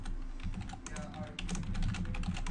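Rapid, fairly close typing on a computer keyboard, a run of light clicking keystrokes with brief pauses between bursts.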